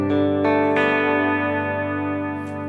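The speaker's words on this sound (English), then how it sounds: "I want some of my natural guitar transients to blend into the original compressed signal." Electric guitar run through a blended compressor on a Line 6 HX Stomp, a few picked chords ringing out and sustaining smoothly before slowly fading, played alone.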